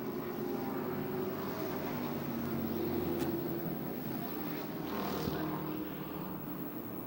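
NASCAR Super Trucks race down the back straightaway at Music City Motorplex in Nashville, producing a steady, distant engine drone that holds for several seconds, with a faint commentator's voice over it.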